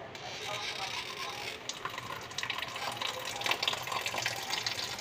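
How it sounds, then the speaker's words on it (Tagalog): Water poured over hard dry dog food to soften it, a steady close splashing stream that runs the whole time, briefly dipping near the middle before running a little stronger. "binabasa ko kasi guys yung kanyang dog food. Kasi lang, matigas kasi pag to eh. Kaya konting basa-basa lang."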